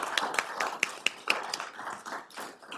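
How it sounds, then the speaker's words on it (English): Scattered hand claps from a small audience at a school board meeting, uneven and fairly quiet, fading into a soft patter with faint room noise. "Let's give them all a round of applause."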